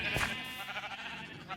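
Sheep bleat in a video game barn, a busy overlapping chorus of wavering cries from several animals, fairly close, one louder bleat near the start.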